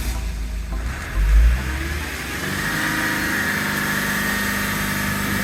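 A Nissan Qashqai's engine revs up by itself during a forced diesel particulate filter regeneration, climbing from idle to a steady elevated drone heard close by, with no talking.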